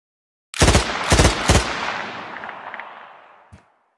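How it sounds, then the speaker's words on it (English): Three loud, close gunshots crack in quick succession in an Algodoo animation, their echo fading slowly before one last faint shot. "First we shot Shadow and Pine"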